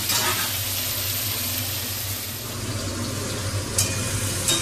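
Soft, steady sizzling of potatoes frying in a pan, with a low hum underneath and a couple of brief louder crackles near the end.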